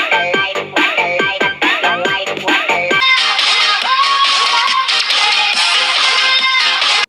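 A Bluetooth speaker paired with a Nubia Neo 5 Max phone plays loud music, first with rapid swooping chirpy electronic notes, then a denser, brighter full-band passage, thin and harsh in tone.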